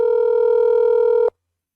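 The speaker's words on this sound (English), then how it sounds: "So, Dave, I'm calling you." A single steady telephone tone rings out clean and loud for just over a second, then stops sharply and leaves silence behind.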